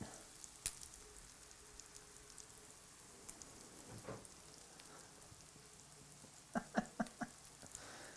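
Trader Joe's soy food frying in a pan, a faint steady sizzle with a few sharp clicks and clatters of utensils near the end.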